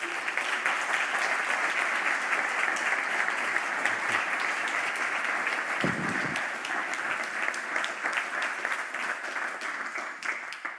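Sustained audience applause fills a conference hall as two session speakers are welcomed to the stage, a dense, steady wash of clapping that holds at even loudness throughout.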